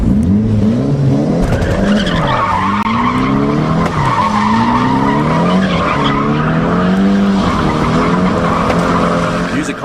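Tires squeal and skid loudly as a car drifts in a tight donut, the engine revving and wavering under the continuous screech throughout.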